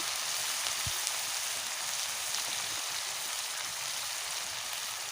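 Turmeric, salt and garam masala powder frying in hot oil for a koi fish curry, giving a steady, close, continuous sizzle with one faint knock, no talking.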